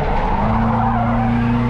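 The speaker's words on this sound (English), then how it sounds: "So I didn't talk right there, so you could hear my throttle." A drift car engine holds steady on throttle while its tires skid and squeal, loud and continuous with no talking.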